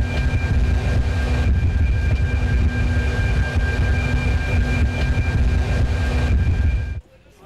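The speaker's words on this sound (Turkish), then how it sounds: "Yapımı devam eden iki hattan biri olan Karşıyaka tramvayında deneme seferi tamamlandı." A Karşıyaka tram on a trial run in İzmir makes a loud, steady rolling rumble with a faint high whine, sustained for about seven seconds before cutting off abruptly.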